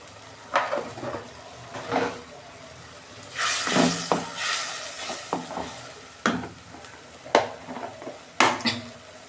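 Ginger and tomato masala with turmeric and Kashmiri chili powder sizzles in a pan, stirred in bursts with scraping strokes of a spoon against the metal, close and fairly loud over a steady frying hiss.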